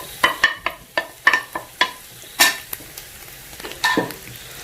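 Restaurant-style chicken fried rice with fried egg is stirred in a hot pan: about a dozen sharp clacks and scrapes of a spatula, irregular in rhythm, over a light sizzle.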